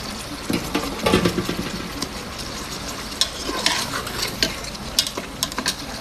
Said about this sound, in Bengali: এখন আমি দিয়ে দিব ইলিশ মাছ